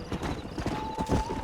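Horse hooves clip-clop at a walk in the Western video game Red Dead Redemption. The close, rhythmic knocks run under a faint steady tone, with no talk.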